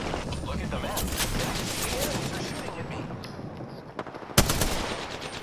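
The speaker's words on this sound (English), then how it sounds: "enemies are shooting at me." Rapid enemy gunfire in an Apex Legends match rattles on continuously, mixed with game noise and sharp single cracks near the end, while a player's voice talks over it.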